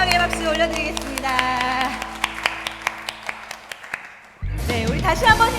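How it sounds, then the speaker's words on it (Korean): A worship congregation claps in a steady sharp rhythm to God's glory, a series of distinct claps over fading music and sung tones, before a voice begins speaking. "우리 하나님 앞에 영광의 박수 올려드리겠습니다."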